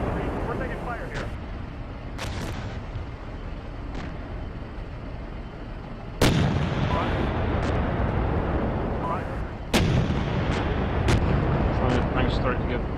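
Heavy booming artillery and gunfire in the tank game Steel Beasts, during a Leopard 2A4 company's defence of a town, with two loud blasts standing out over a continuous rumbling roar and scattered lighter shots, while voices talk throughout.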